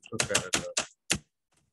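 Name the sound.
typing code on a computer keyboard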